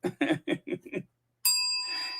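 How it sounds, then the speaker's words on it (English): A bright bell rings once with a sustained, shimmering tone that lingers for nearly a second, heard right after a voice speaking several short syllables. "I can't say legs and not ring the bell"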